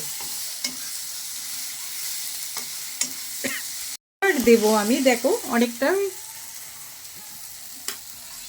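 Masala with salt and turmeric fries in a pan for chhana bhuna. A soft steady sizzle runs under scraping stirring strokes, with someone speaking briefly midway.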